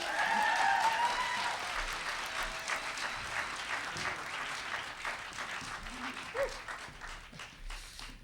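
An audience applauds steadily, a dense patter of many hands clapping that gradually thins and softens, with a brief whistle near the start.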